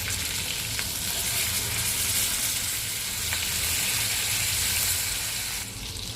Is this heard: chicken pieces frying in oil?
yes